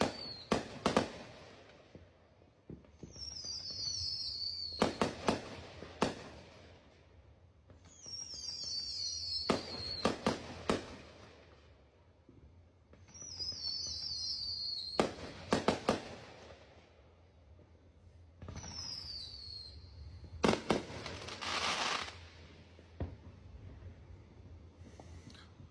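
Fireworks at a 4th of July block party burst in repeated clusters of sharp cracks and pops, each round following a rising whistle, heard from a moderate distance over outdoor background noise.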